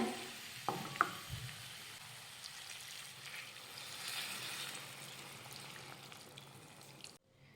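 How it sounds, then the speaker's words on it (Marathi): Hot water going into a potato bhaji for puri bhaji, a soft steady pouring and sizzling wash with a couple of clinks near the start, fairly quiet, no talk. "आता यामध्ये घालूयात गरम पाणी"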